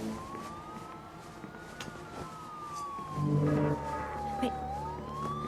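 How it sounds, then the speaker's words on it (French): An emergency siren wails with a slowly rising and falling tone, moderately distant, over a background of traffic and a vehicle engine, while a person speaks briefly. "Pourquoi on entend des sirènes?"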